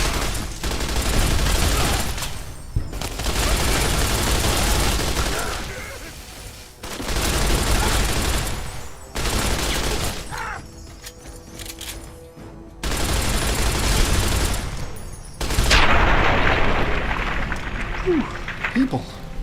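Loud bursts of automatic gunfire aimed at an overlord in Fallout 3, several long sustained volleys separated by brief pauses, ending in a sharper blast.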